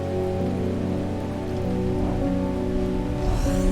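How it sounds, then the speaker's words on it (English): Thunderstorm rain in the video game Strange Horticulture, a steady dense patter of water falling on surfaces, continuous and fairly loud with no voices over it. "we got a thunderstorm"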